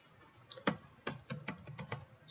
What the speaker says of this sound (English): here we're going to type in